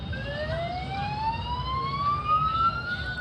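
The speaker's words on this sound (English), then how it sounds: "If I introduce a siren noise now" A car siren-detection test: a siren wails steadily, its pitch sweeping slowly upward over a low rumbling background, fairly loud and continuous throughout.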